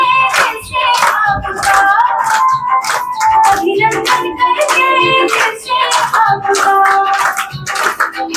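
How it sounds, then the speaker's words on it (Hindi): A gathering at a spiritual Gita study session on Diwali claps hands in rhythmic welcome. The sharp, regular claps come through loud and close beside tuneful singing voices. "आज सब तालियां बजाते हैं।"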